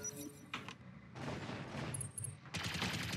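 Autocannon fire in the mech combat game Battletech, heard as a dense burst of rapid, loud shots with sharp impacts, a short lull, then another heavy volley near the end.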